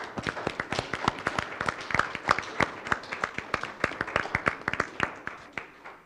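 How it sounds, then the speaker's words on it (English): Applause from a modest audience at a public redistricting commission hearing in Tucson, heard as scattered, distinct hand claps in an uneven rhythm throughout, moderately loud and without talk. "if you wouldn't mind joining us in applause for them"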